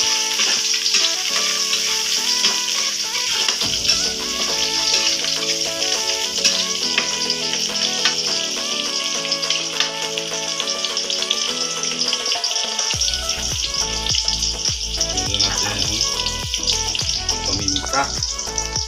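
Onions sizzle in a frying pan during home cooking, a steady bright hiss that runs throughout under background music.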